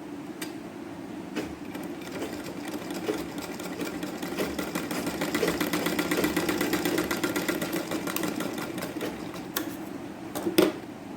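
A sewing machine stitches a bow-style sleeve in a continuous, fairly quiet mechanical whir with a rapid steady needle rhythm, broken by a few faint clicks.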